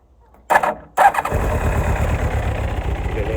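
A Kawasaki ZX-7R motorcycle is cranked with two short starter bursts, then the engine catches and settles into a loud, steady idle close by, with no talking.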